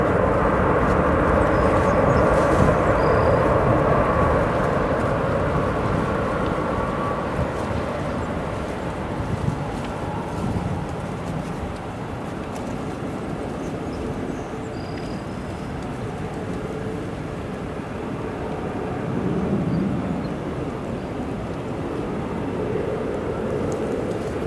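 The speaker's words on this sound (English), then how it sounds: "Here's our brand new 737 MAX." A brand-new United Boeing 737 MAX in the new livery arrives at O'Hare airport, heard as a steady, distant, broad jet roar that slowly fades, with wind noise and no talking.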